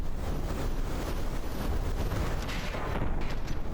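A massive explosion rumbles through a naval battle between battleships in From the Depths, a dense, loud boom and roar filling the whole clip with no voice over it.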